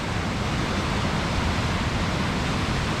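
Waterfall among mossy rocks in Scotland, a constant broadband rush of falling water, loud and close with no pauses.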